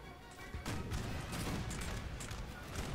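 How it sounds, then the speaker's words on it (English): Canister shot and musket volleys from the Old Guard in the Napoleon: Total War video game: a continuous, dense crackle of massed gunfire with dull booms, heard as a distant, rolling battle din. "Canister and gunfire from the old guard"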